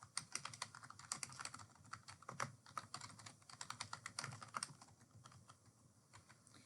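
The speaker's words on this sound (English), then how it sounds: "you're actually going to type your address information" Fingers type an address on a computer keyboard, producing a quick, irregular patter of close, soft key clicks with brief pauses, and no one speaks.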